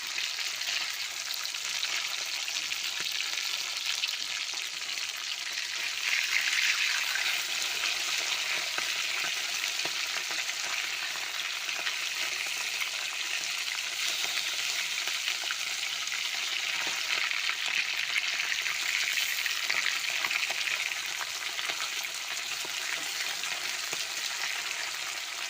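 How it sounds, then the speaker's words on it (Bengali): Pomfret fish frying in a wok of hot oil, a steady dense sizzle that holds for the full stretch with occasional soft stirring and turning sounds, close and continuous with no talking. "মাছটা একটু ভাজা হয়ে গেছে,"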